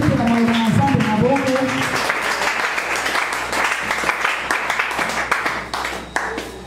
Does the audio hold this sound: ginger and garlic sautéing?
no